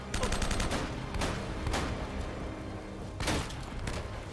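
Loud automatic gunfire from the video game Uncharted: Drake's Fortune: a rapid burst at the start, then scattered heavy shots and another sharp volley near the end, all close and dense.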